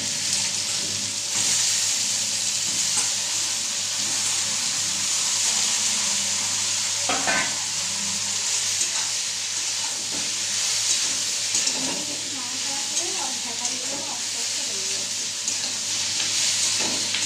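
Ridge gourd being added to fried potatoes in a hot pan, a loud continuous sizzle and hiss close by with occasional scraping stirs of a utensil against the pan.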